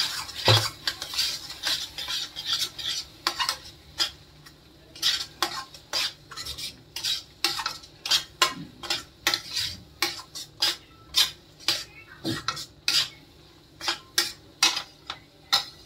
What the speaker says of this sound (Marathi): त्याच्याला आवाज येतोय चमच्याचा.